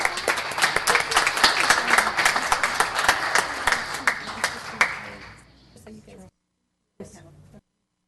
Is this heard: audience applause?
yes